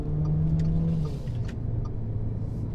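GAC GS3 small crossover accelerating hard out of a roundabout, with a steady close engine drone that shifts lower partway through, over road rumble.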